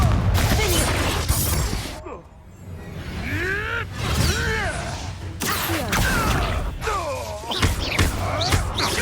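Confringo blasting curse exploding in a Harry Potter–style haunted forest game, with loud thuds and crashing impacts through a busy battle mix, whooshing swept tones and brief pauses between hits.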